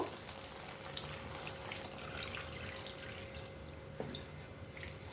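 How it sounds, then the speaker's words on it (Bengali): Water pours and splashes into a pan of cooking curry, a soft continuous trickle with faint sizzling bubbles in a home kitchen. "এবার আমি এতে জল দিয়ে দেব।"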